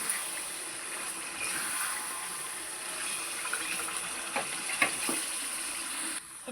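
Chicken rejala sautéing in a pan, a steady soft sizzle and frying hiss with a few stirring clicks and scrapes, fairly close and continuous, with no talking.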